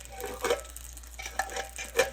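Coconut milk poured into a pan of sizzling seafood, a soft steady frying hiss broken by several clinking stirs of a utensil against the pan.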